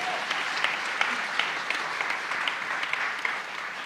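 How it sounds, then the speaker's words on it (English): Audience applause at a live interview event in Berkeley: steady, moderately loud clapping from a sizable crowd, with scattered sharper claps standing out, continuous throughout. "You can clap."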